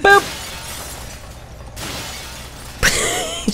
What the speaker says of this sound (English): Just the shattering